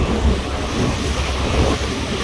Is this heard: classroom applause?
no